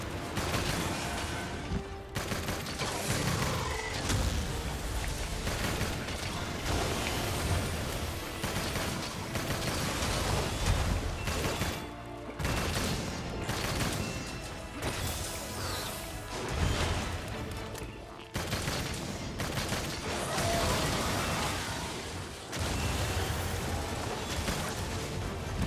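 Dense, continuous rapid-fire bowgun shots from Monster Hunter Rise: Sunbreak, loud overlapping bursts with crashing impacts and game effects, briefly pausing a few times, with no speech.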